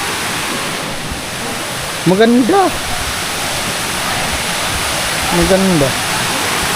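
Heavy, steady roar of a powerful waterfall fills the scene without a break, while a voice speaks briefly twice over the rushing water.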